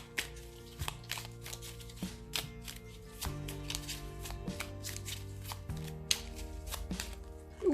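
Tarot cards slip and drop onto a table during a full moon reading, a scatter of soft slaps and shuffling flicks, close and fairly quiet, over a low musical background with no talking.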